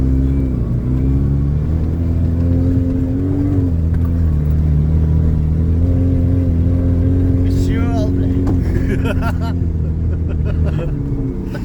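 A small ZAZ Tavria car engine, fully loaded with passengers, drones steadily uphill, low and constant with a rising strain, while people talk and laugh inside over it.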